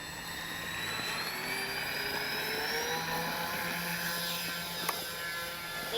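Dynam Grand Cruise V3 RC airplane in flight on its maiden outing, a steady high electric-motor whine with shifting pitched tones, held at an even distance with no voices.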